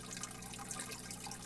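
A steady wash of pouring, splashing water fills an aquarium during a water change in Biotope Aquarium Simulator, a soft continuous rush with no pauses.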